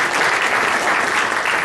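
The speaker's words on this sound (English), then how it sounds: "you all can clap for the advocate" An audience at a business diversity expo claps for a local newspaper, a brief, close, dense burst of applause at a steady level with no talk over it.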